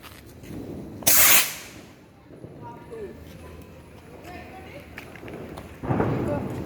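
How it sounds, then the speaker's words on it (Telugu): A Diwali firework rocket launching at a village celebration, with a short loud whooshing hiss, quieter crackles, then a second broad rushing burst. Voices are present nearby. "ఈ అబ్బాయి రాకెట్ లాంచ్ చేస్తున్నాడు"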